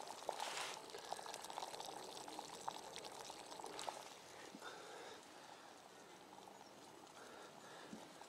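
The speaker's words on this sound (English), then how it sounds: "we have a rolling boil." Water at a rolling boil in a pot over a Vargo titanium hexagon wood stove, a steady bubbling and churning wash that stays fairly close and continuous, easing slightly in the second half.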